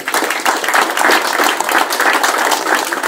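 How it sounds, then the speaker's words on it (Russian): A crowd applauds loudly and steadily for the teams at the opening of a regional junior sports championship, many hands clapping together in a dense, sustained burst with no talking. "Аплодисменты командам."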